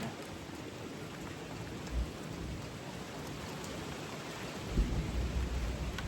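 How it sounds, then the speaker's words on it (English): Steady heavy rain hisses throughout, with low rumbles of thunder rolling in around the middle and again near the end. "Here comes the rain."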